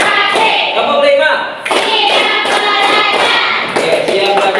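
Children in a classroom clap their hands together in a dense, loud burst of applause with a short dip midway, mixed with chatter from the class.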